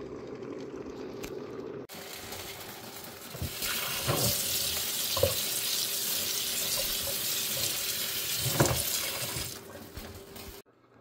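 Water drains from rice, boiled for about three minutes for Persian barberry rice, as it is poured into a colander. A loud, steady rush and splash lasts about eight seconds, then cuts off, with a few clinks along the way.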